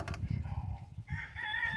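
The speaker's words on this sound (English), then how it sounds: "Rooster's mocking me." A rooster crows from a distance, its drawn-out call rising over a low, rumbling background of outdoor noise.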